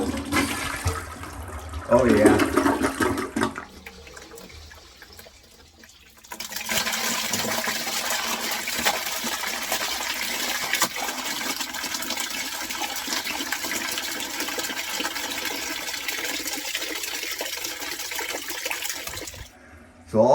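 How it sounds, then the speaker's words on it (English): Water rushing down a residential sewer main line into a bucket below, a loud steady flushing whoosh lasting most of the stretch after a brief quieter pause, with a short spoken exclamation near the start. "So all that water just went down into the bucket down below."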